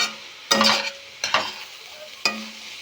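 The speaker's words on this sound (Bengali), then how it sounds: "এবার আমি ঢাকনাটা খুলে আবারও এটাকে ভালো করে নেড়ে দেব।" Grated carrots frying for gajar ka halwa in a pan over low heat, just uncovered, are stirred in three distinct scrapes over a soft, steady sizzle, heard up close.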